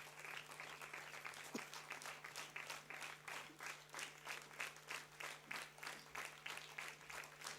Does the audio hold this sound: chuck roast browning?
no